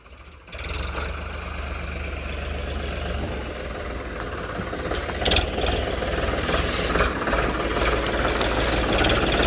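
A heavy tractor diesel engine runs steadily nearby during straw loading into a trolley, a low knocking rumble with faint clatter, loud and continuous throughout, with no talk.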